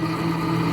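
A blender whirs steadily at full power, puréeing a McDonald's double sausage and egg McMuffin with hash brown into soup; a loud, constant motor hum with no pauses.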